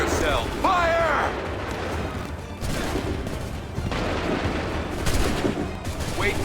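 Volleys of gunfire crack repeatedly in a video game as shouted commands and voices come in between the bursts, loud and close with a dense, echoing mix.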